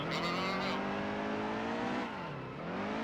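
A NASCAR stock car engine in the racing game NASCAR Heat 2, exiting pit road: a loud, steady, buzzing engine drone whose pitch climbs, dips briefly with the throttle, then rises again, with someone talking over it.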